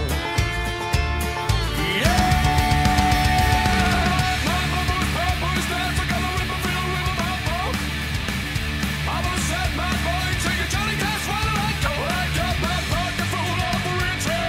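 A rock song plays as a dense, loud full-band recording, with driving guitars, drums and vocals continuing steadily throughout.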